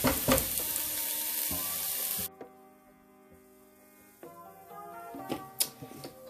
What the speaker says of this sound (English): while the vegetables are browning, or sauteing